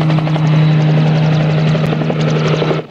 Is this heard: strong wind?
no